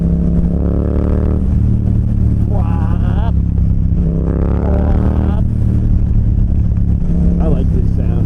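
A 2024 Yamaha MT-07 motorcycle engine idles loudly up close, then rises through several revving pulls that climb and fall back, with a voice speaking over it.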